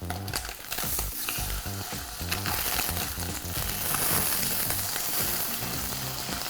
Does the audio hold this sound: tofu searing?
yes